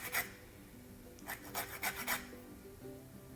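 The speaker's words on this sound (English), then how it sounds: "So here how I remove the zest." Lemon zest is rasped off the fruit on a grater in quick, short strokes, one early scrape followed by a cluster of four or five more, close and quiet in a calm kitchen.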